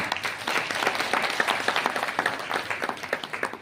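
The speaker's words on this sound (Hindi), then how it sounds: "एक बार जोरदार तालियां सबके लिए" Loud, dense clapping from a crowd at a motivational talk on direct selling, a steady wash of applause with individual claps popping through throughout.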